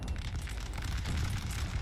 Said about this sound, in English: This is a 6-pounder cannon, a 4-cannon set.